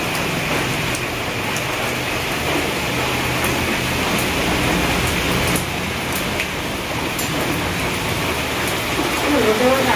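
Steady rain pours down in a continuous, even hiss of drops spreading across the whole scene, close and fairly loud without letup.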